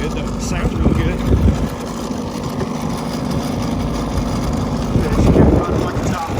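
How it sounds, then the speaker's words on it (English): A 1989 two-stroke outboard boat motor idles steadily at close range, its low buzzing drone continuous throughout, with someone talking over it. "It's finally running good though. It sounds really good."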